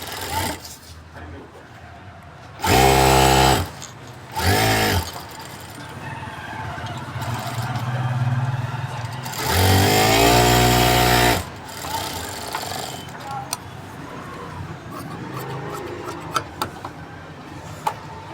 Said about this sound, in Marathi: इथे मी हे नेव्ही ब्लू कलरचं फॅब्रिक घेतलंय, त्याच्यावर आधी आपण स्टिच करून घेऊ।